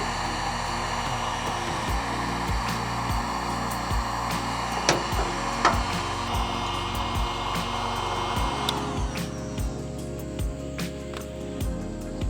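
Continuous loud roar of a heat gun aimed at a metal ditch-light bracket on a Toyota 4Runner, steady and close, with small clicks and knocks over the blowing noise.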